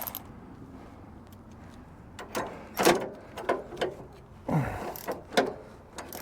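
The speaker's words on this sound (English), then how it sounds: "First thing it says we got to do is remove this arm and this bolt and washer." Bolt and washer being worked off the arm of a Craftsman garden tractor, close metallic clicks and ratcheting scrapes coming in uneven bursts, moderately loud with no talking.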